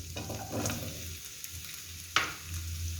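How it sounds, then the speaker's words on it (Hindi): Carrots frying in oil in a pan, a continuous close sizzle with stirring scrapes and a single sharp clink of a utensil near the end, no talking. "अब इसमें गाजर ऐड करेंगे।"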